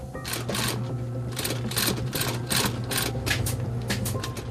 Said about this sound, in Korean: 본격적으로 재봉 작업을 시작하는데요. 기계로 바느질을 해 편할 거란 생각은 오산.